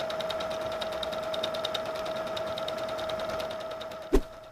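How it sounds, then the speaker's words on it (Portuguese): A sewing machine runs a straight stitch around the edges of fabric, giving a steady, close mechanical whir with rapid regular needle ticking, then a single sharp knock near the end. "eu vou na máquina de costura passar a costurinha reta aqui ao redor"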